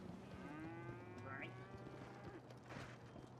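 A cow in GTA V NoPixel roleplay lets out a long, drawn-out moo with a rising, bending pitch, clear but moderate in level against quiet game ambience.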